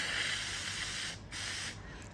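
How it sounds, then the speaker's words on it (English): An upside-down spray paint can blows out its nozzle in a steady, close hiss with two brief pauses, loud and alone. "when I clean out my spray cans, I like just to hold them upside down."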